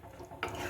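Onion curry, Kerala ulli theeyal, stirred in a pan: a soft low scraping and churning that turns brighter and wetter partway through, close and steady, with no voices.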